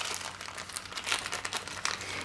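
Plastic bag crinkling close up while mail is unpacked, a dense run of crisp rustles and crackles, alone with no talking.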